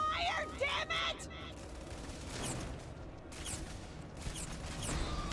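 Gunfire in the sci-fi video game Starfield during a fight with a cloaked terrormorph, with bursts of shots and impacts running throughout under loud shouting voices and game effects.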